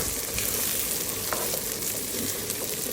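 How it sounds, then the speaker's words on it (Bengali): Rice and mung dal frying together in a pan produce a dense, continuous sizzle that stays close and fairly loud, with no voices. "এবার চাল ডাল একসঙ্গে ভেজে নিচ্ছি আস্তে আস্তে।"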